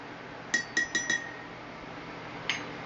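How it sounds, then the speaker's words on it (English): A metal spoon stirring iced chai tea in a glass, four quick bright clinks in a row against the glass, then a pause and one more clink, close and clear over a quiet room. "So now I'm just gonna stir it around a little bit."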